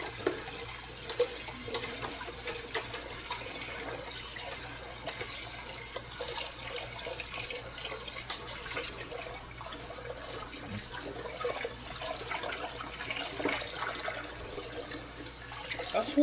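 Tap water runs steadily into a sink while dishes are scrubbed, a continuous close wash of splashing and clinking with no clear pauses.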